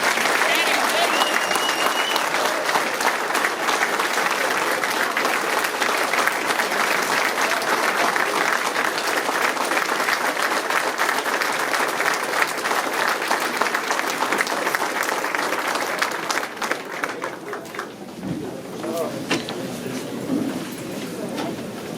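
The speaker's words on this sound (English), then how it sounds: "I think we owe him a round of applause" Sustained applause from a large audience at a municipal all-candidates' meeting fills the room, steady and loud, thinning out near the end as a few people murmur.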